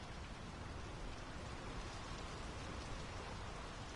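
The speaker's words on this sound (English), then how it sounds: "The rain's picking up." Rain falling in the video game Draugen, a dense, steady hiss of heavy rainfall filling the whole clip with no pauses.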